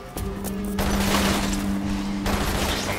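Rapid gunfire bursts in the Umbrella Corps shooter game, a dense sustained volley of shots with a steady tonal hum beneath, loud and close throughout with no talking.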